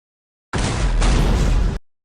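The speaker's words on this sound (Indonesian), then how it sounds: "Snow dan Emily yang sudah berada di dalam lubang udara melemparkan granat." A grenade explodes in the film Lockout, a loud close blast heavy in the low end that holds for just over a second and then cuts off, with no talking.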